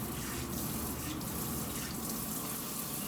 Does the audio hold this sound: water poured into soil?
yes